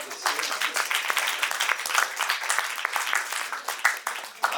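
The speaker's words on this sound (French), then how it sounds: "On peut applaudir." An audience at a film commentary event on Kurosawa's Musashi breaks into applause, a continuous, fairly even patter of many hands lasting several seconds at moderate loudness.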